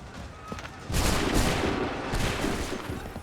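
A volley of gunfire in a war setting breaks out after a quieter start, a dense rolling fusillade of many overlapping shots and booms that stays loud and continuous to the end.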